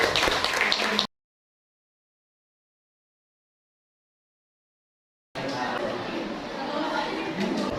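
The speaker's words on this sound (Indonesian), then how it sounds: "Kita beri aplaus untuk kelompok 4, Alfa dan kawan-kawan." A classroom of students applauding a group, a dense patter of clapping mixed with chatter, bursting in briefly, then cutting out to silence and returning loud and close.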